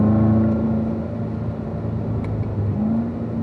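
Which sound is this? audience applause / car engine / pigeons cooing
car engine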